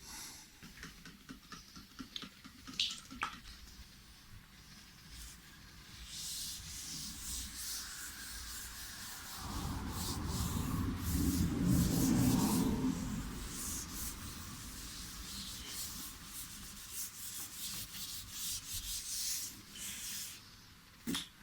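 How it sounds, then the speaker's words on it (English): A guitar body's finish is scuffed by hand with 1000 grit sandpaper, a soft rhythmic rubbing hiss that builds into a louder, denser stretch of back-and-forth strokes midway, close and alone without talk. "I'm going to scuff it with some 1000 grit sandpaper, just to further polish the surface."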